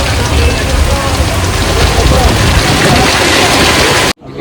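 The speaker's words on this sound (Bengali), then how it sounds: "প্রচুর বৃষ্টি" Heavy rain pours down around a passenger sitting in a toto e-rickshaw in Agartala, a loud, dense, continuous roar of drops that cuts off abruptly just before the end.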